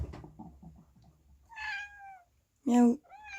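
A cat named Paps gives several short, close meows between quiet background sounds, one louder and rising. A person also imitates the meow, and other speech follows.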